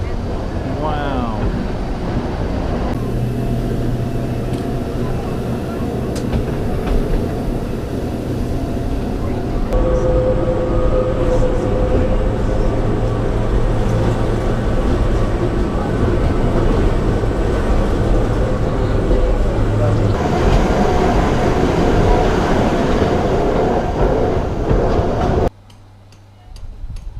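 The Matterhorn cog train in Switzerland rumbles and clatters along its rack railway, a continuous mechanical drone with ticking and shifts in tone, heard nearby amid faint voices before ending abruptly.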